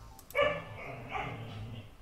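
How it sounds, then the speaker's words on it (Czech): Dogs bark and yip in a modded Minecraft game, a couple of close sharp barks followed by softer whimpering tones with a low hum underneath. "slyšíte psy, jak se baví"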